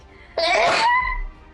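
A single loud, close sneeze, a quick sharp burst that trails off briefly, heard on its own.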